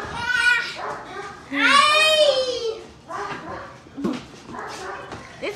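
Frightened dogs whimper and yelp in high, wavering cries while scrambling around a dog pad, the cries loud and close and overlapping with people talking.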